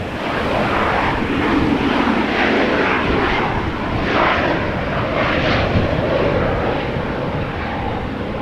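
Transavia airliner arriving at Amsterdam Schiphol from Malaga: a loud, sustained engine roar with a slowly shifting whine as it passes, steady from start to finish, and no voices.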